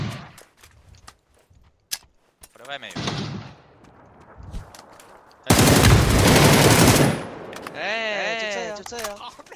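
Bursts of automatic gunfire from a shooting video game, a dense loud volley in the middle, with scattered shots and game sounds around it and a voice talking briefly near the end.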